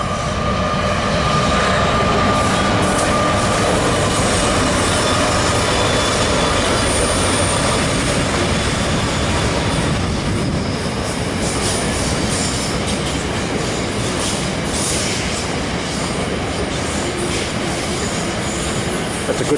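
A goods train rolls past on an Australian railway line near Shepparton, a loud, steady rumble of wagons with wheel squeal and clickety-clack running the whole way through, close by and without talk.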